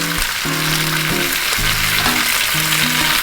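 Tomato sauce with basil sizzling on a hot Blackstone griddle, a steady loud fry with shifting bubbling tones and no voices.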